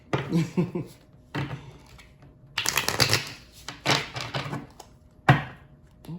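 Bursts of crisp tarot card shuffling riffle through the clip in several separate rounds, with short pauses between, close and fairly quiet.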